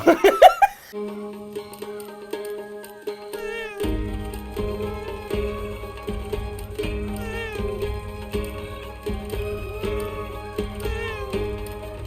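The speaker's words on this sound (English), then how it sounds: "One of them is the cat, so it goes meow." A cat hat in Kena: Bridge of Spirits plays cute meows, starting with a couple of sharp mews, then a run of melodic meows over a light musical backing.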